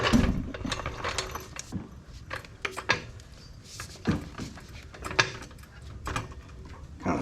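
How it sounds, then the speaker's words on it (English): A floor jack is rolled under a 1959 Willys Jeep chassis, its wheels and metal frame clanking and rattling in irregular bursts against a noisy workshop background. "So I'm just going to roll the floor jack under here."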